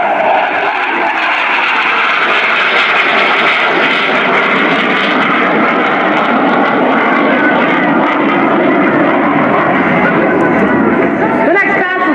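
A CF-18 Hornet fighter jet makes a loud, roaring pass at an air show, a broad, sustained engine rush close overhead while an announcer talks over it.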